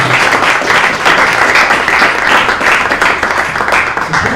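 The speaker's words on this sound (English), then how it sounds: "so let's clap it up" An audience at a startup pitch night in New York claps steadily and loudly throughout, a dense sustained wash of applause filling the room.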